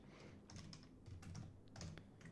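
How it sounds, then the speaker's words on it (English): Keys clatter on a computer keyboard as a project name is typed, a quick, uneven run of light, close clicks at low volume with no talking. "I'm going to type"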